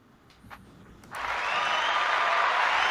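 Crowd applause from a sound effect swells in suddenly and holds as a steady, dense wash of clapping and cheering, loud and sustained to the end, with no voices over it.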